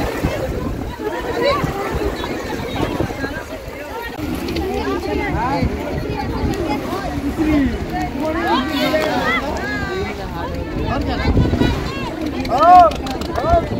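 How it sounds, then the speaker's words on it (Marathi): A packed passenger boat travels on cold water off Arnala Fort near Virar, Mumbai, with steady engine and water rush and wind buffeting the microphone, while several people talk over it throughout. "सो मित्रांनो आता पूर्ण बोट भरली आहे."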